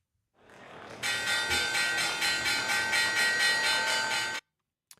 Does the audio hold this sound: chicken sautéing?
no